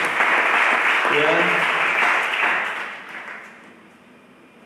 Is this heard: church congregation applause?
yes